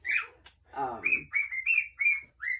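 Pet birds kept in cages indoors in a home kitchen chirp and whistle, a rapid series of bright clear whistled notes with a few rougher squawky calls, close and fairly loud with no talk over them.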